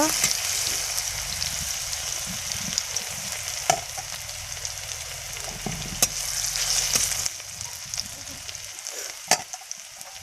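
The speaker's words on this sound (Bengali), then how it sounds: "রসুন ভালো করে ভেজে নিব" Garlic fries for dal in a close, continuous sizzle with light stirring clatter and a few sharp spatula knocks.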